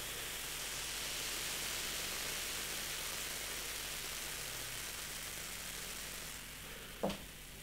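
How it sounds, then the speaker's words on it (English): Brasserie des Rocs Triple Imperiale, a carbonated Belgian abbey dark ale, hisses and fizzes close up in a loud, steady rush of foam, ending in a single soft knock. "Listen to that hiss and fizz."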